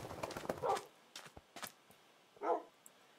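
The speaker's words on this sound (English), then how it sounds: "Look at all the dogs." Several dogs barking in the video game Minecraft, short yips and barks scattered across the clip, faint overall with a louder bark near the end.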